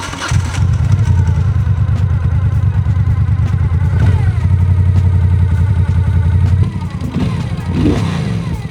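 A Moto Guzzi V7 motorcycle is ridden close by, its engine a loud, steady throbbing drone that holds evenly before dropping off and shifting near the end.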